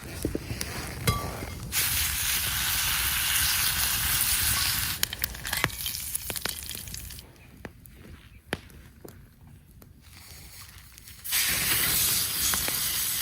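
Bacon sizzling in a pan at a campsite, a bright steady hiss that rises loud, drops away for a few seconds amid crackles and clatter, then returns strong.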